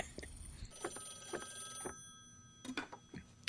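Faint telephone rings sound in a Terminator 2 movie scene, several short bell bursts spaced unevenly against a quiet background.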